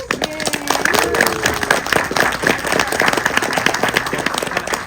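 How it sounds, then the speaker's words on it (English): An audience at a film Q&A claps in a continuous burst of applause, fairly close and busy, with some faint voices and whoops mixed in underneath. "Another round of applause, please."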